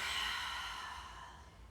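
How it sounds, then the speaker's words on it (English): A slow, deep exhale during a calming yoga flow, a soft airy rush that is loudest at the start and fades steadily over a couple of seconds, close and alone with no talking. "big breath in, and exhale it out"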